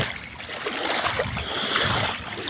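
Floodwater sweeping through a street on a July evening, rushing and gurgling in a steady wash of turbulent flow that is moderately loud and continuous.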